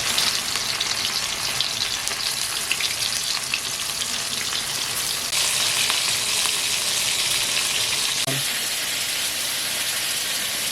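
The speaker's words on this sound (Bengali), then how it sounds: "তেল গরম হয়ে গেছে আর মাছটাকে এক এক করে ভেজে নেবো" Lotte fish coated in salt, turmeric, ginger, garlic and cornflour fries in hot oil, a loud continuous sizzle and hiss with a brief sharper crackle near the end.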